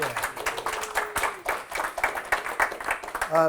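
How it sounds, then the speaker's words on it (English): A small audience at a skydiving expo talk claps briefly in uneven bursts, mixed with some speech. "go on, give it a clap"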